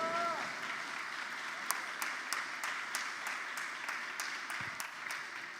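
A church congregation at a worship service claps in a steady rhythm, giving a moderate, even patter with sharp individual claps standing out, while a preacher's voice carries faintly at the start.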